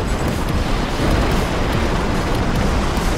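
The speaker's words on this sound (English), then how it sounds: "Building collapse imminent." A building collapsing in the video game ScreamRide makes a dense, continuous roar of rumbling and crumbling, loud and unbroken throughout.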